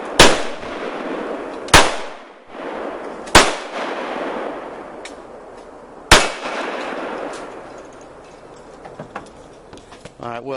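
Regent R100 1911 pistol firing single shots outdoors, four loud sharp reports spaced a second or two apart with ringing decay, then a fainter pop and a quieter tail.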